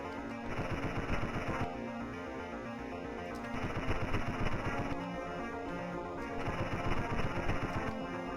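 Rapid video game gunfire rattles in sustained bursts over a droning, layered game soundtrack, with short pauses between volleys and no talking.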